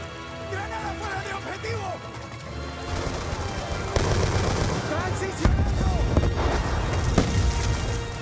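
Gunfire in the Call of Duty Black Ops II video game, rapid bursts and heavy impacts that intensify partway through, layered under game music and shouted dialogue.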